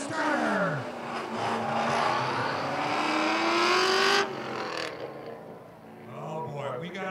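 Drag-racing cars, among them a Hurst Oldsmobile with four on the floor, rev loudly at a speedway start, engines climbing and roaring for several seconds before cutting back, with a commentator talking over them.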